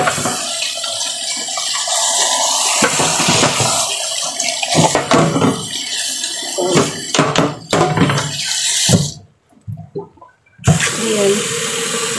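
Tap water running into a pot for Chinese herbal soup, a steady broadband rush that stops briefly near the end before resuming, with a voice talking over the flow.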